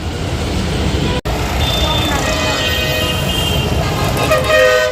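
Heavy Diwali-day traffic at the Rajkot GSRTC bus stand, with loud, continuous engine and road noise and repeated horn toots rising above it, close by and busy throughout.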